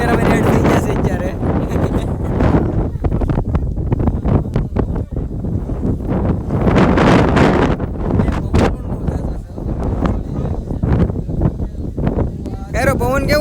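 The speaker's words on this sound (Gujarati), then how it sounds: "પવન કેવો છે અહીંયા? બહુ છે ને?" Strong wind at the Saputara hill station, loud gusts buffeting the microphone in a continuous roar while people talk over it.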